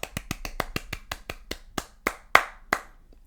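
A podcast host claps his hands alone in a quiet room, about a dozen sharp, close claps in a loose, slightly uneven rhythm, slowing and spacing out toward the end.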